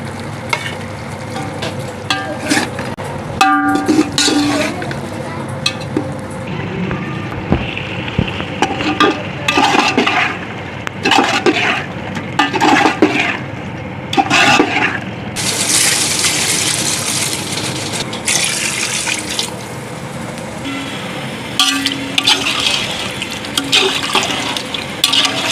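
Yakhni stock being poured into a large pot with rice for Pakistani beef pulao, long watery splashing and sloshing with stirring clatter, loud and close, surging stronger midway.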